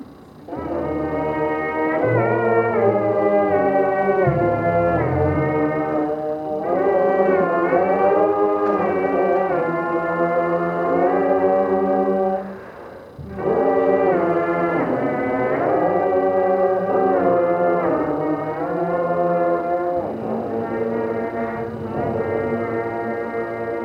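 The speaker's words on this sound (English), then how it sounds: "Air horn." Loud air horn blasts play a wavering melody in long sustained phrases, with a short pause near the middle, brassy and continuous.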